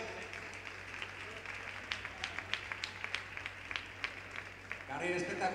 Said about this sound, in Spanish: Aplaudimos ahí a todas las participantes de esta final de 800.